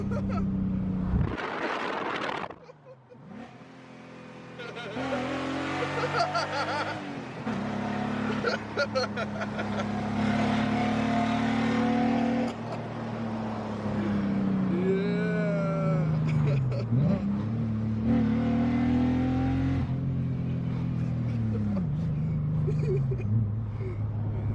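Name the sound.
BMW E30 car engine revving with a big exhaust leak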